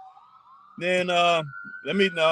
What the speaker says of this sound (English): It's not a fire truck, it's an ambulance, actually.